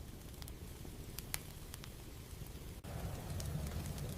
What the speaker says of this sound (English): That crackle when it hits the clay.